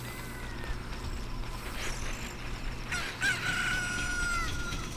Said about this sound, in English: Rooster's gonna crow.